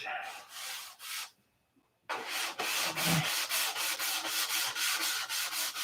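Fine 320-grit sandpaper rubbed back and forth in quick, even strokes, close and loud, with a brief pause before the rhythmic scrubbing resumes.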